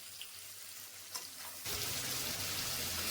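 Chicken liver frying in a pan in a village-style kitchen: a faint sizzle that suddenly grows into a loud, dense crackle about halfway through and then holds steady.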